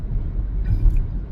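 Interior engine and road rumble from a car being driven, a steady low drone heard from inside the cabin with no talking.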